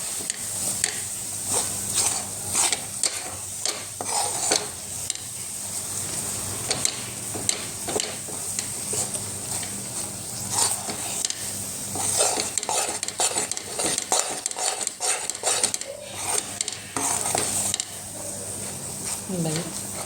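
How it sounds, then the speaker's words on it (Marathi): A spoon stirs and breaks up lumps in a thick mixture of rice, jaggery and grated fresh coconut in a pan, making irregular scraping clicks and knocks over a faint sizzle throughout. "उठळ्या होत असतील तर या सगळ्या फोडून घ्यायच्या गोष्या नाही होऊ द्यायच्या"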